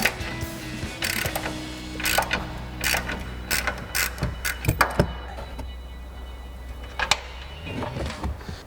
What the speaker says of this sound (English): we're going to grab our ratchet and fully remove those nuts